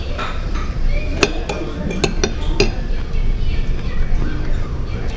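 Glasses and cutlery clink sharply several times in a toast over a meal of fried chicken at a restaurant in Baguio, bright close taps over a busy dining-room murmur.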